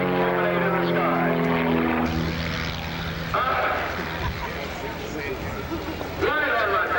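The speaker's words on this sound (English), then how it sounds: "Right on my back, it turns that airplane around." A clip-wing Cub light airplane flies aerobatics at an air show, its propeller engine droning loudly and shifting in pitch as it maneuvers, with crowd noise and an announcer's voice mixed in.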